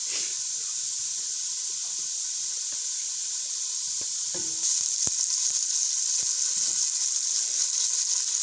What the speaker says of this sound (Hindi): सबसे पहले हम लोगों ने प्याज रखनी है, देगची में घी डाल लेंगे